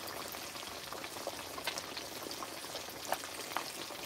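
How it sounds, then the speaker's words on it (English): Jamaican snapper fish frying in oil outdoors in the rain, giving a steady soft crackling sizzle with scattered small pops, fairly quiet and without speech. "Fish is frying nicely."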